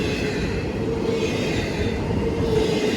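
Amtrak 48 rolling past on the rail line in the rain, a steady, dense rumble of railcars close by with a faint high rail squeal running through it, no voices.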